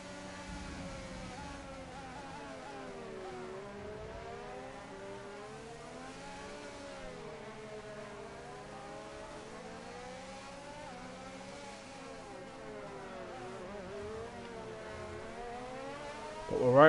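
Race cars in the F1 22 video game on the Miami circuit, engines whining and shifting pitch steadily through corners with no talk, the loudness rising sharply at the very end.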